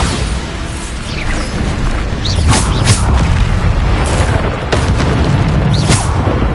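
Bombarda blast spells in Hogwarts Legacy, loud heavy booms rolling over a constant dense rumble of combat, with several sharp bursts cracking through at intervals.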